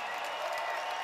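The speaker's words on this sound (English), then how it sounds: "Big cheer there for Ukrainians and the USA." A crowd at a medieval armored fighting tournament cheers and claps in a steady, moderately distant roar that fills the short moment without any voices standing out.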